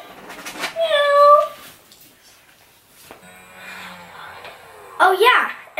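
A Joy for All robotic orange tabby toy cat gives a short, close, tonal meow, then a second brief meow-like chirp several seconds later, with quiet stretches in between.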